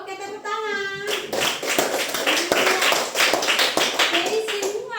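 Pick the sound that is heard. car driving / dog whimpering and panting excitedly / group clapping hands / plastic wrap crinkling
group clapping hands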